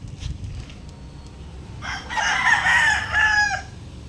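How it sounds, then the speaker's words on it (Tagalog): A rooster crows once, loud and close, a long wavering cock-a-doodle-doo rising over quiet background rustle. "Bisitahin natin yung manok natin."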